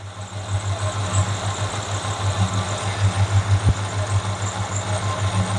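A 1978 Plymouth Volare 318 V8 engine idles steadily with a deep, throbbing low rumble, loud and close, with no voices.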